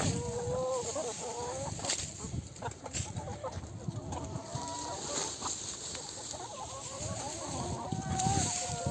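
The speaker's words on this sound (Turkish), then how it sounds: "Yine tavukların bir kısmı telin dışına çıkmış." A flock of farm chickens, some loose outside the wire fence, clucks and crows repeatedly at moderate distance amid rustling, a steady background of fowl chatter.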